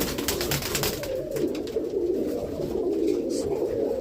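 Racing pigeons coo softly and steadily in a loft, a low continuous burbling close by, with faint rustling and movement around them and no talk.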